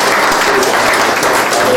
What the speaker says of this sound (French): Acclamez le Seigneur encore une fois.